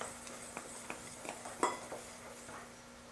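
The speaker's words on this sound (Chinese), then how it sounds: "2 tablespoon 的 sugar， 把它们简单搅一下" Sugar is stirred in a bowl for a pumpkin pie filling, giving a quiet series of light spoon clinks and scrapes against the bowl at an uneven pace, with one slightly louder knock midway.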